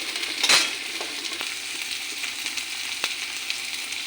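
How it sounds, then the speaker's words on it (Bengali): Onion greens and capsicum fry in a pan with a continuous close sizzle, a brief louder burst near the start and soft stirring taps through the rest. "এগুলো একটু ভাজা ভাজা করে নিই"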